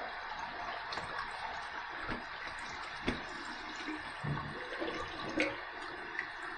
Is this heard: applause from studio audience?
no